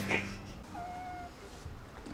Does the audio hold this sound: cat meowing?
yes